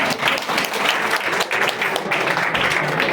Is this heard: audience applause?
yes